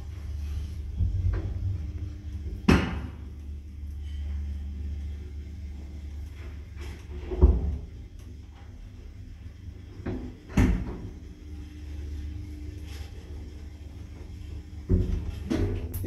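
An old passenger elevator in a Kraków apartment building on Kazimierza Wielkiego street runs with a steady low hum and rumble. Several sharp knocks and clunks, probably mechanism or door sounds, break through the rumble at intervals.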